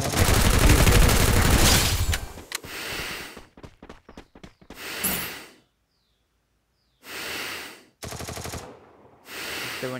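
Gunfire in the mobile shooter Free Fire: a long rapid automatic burst, then several sharp single shots and short bursts separated by silences, close and loud.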